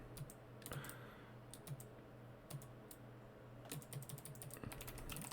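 Typing on a computer keyboard while coding, with rapid clustered keystrokes and bursts of clicks over a steady low hum. The keys sound close and fairly quiet, and no one speaks.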